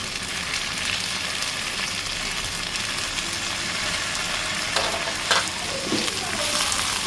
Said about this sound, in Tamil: நல்லா வதக்கணும். கொஞ்சம் நல்லா வதங்கட்டும்.